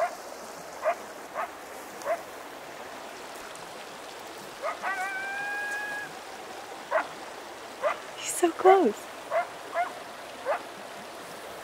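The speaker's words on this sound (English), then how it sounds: "Oh my god, those freaking coyotes." Distant coyotes yip and let out a short howl from timber beyond a mountain trout stream, with scattered sharp yips echoing over the steady rush of running water; a person speaks briefly.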